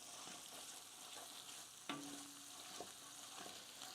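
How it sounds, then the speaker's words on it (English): Spices blooming in hot oil in a pan sizzle steadily, with a sharp clink of a utensil partway through and faint stirring scrapes. "Blooming spices is a very temperamental step."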